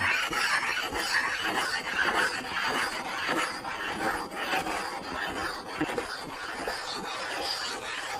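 Telescope mirror being rough-ground on a glass tool with pitch, a continuous gritty, scraping rasp with steady back-and-forth rubbing strokes, fairly close and even in loudness, no voices.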